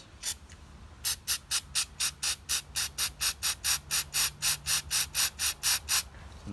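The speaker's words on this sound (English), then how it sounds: "take the mass airflow sensor cleaner and you're going to spray right into here" Rapid, evenly spaced bursts of mass airflow sensor cleaner spray on a VW Passat 1.8 TSI engine, about twenty short hissing pumps in a row after two initial test sprays, close and fairly loud.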